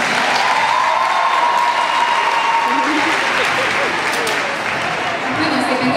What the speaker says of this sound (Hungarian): óriási tapsot a mi Bélánknak